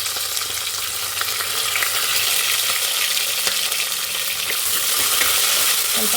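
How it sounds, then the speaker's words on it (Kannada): Cashews and onions fry in a pan for a mushroom palak pulao with a steady, close, crackling sizzle that runs without a break. "ಸ್ವಲ್ಪ ಗೋಲ್ಡನ್ ಫ್ರೈ ಬರೋವರೆಗೂ ಬಾಡಿಸ್ಕೊಳ್ಳೋಣ"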